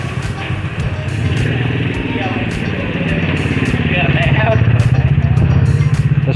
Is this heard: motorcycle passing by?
yes